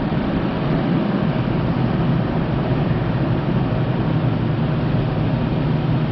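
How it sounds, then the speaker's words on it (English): A Toyota's secondary air injection pump runs with an engine at raised idle, a steady, loud, even whooshing drone that holds unchanged throughout. "I heard the air pump come on."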